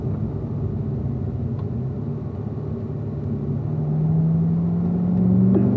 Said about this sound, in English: my brake lights come on, I feel the car slowing down, and I'm doing a downshift